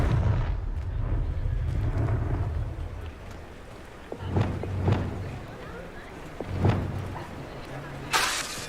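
The Confringo blast spell in the Hogwarts Legacy video game sets off a series of booming explosive bursts over a rumbling game soundscape, with a sharp crackling hit near the end and a voice speaking.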